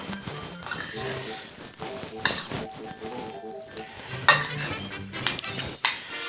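A spoon stirs a spinach and cheese filling for stuffed chicken breast in a bowl, giving scattered light clinks and scraping against the dish amid faint background tones.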